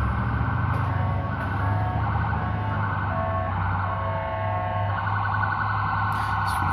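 An ambulance siren wails close and loud over steady street traffic noise, its repeating electronic tone pattern continuing throughout.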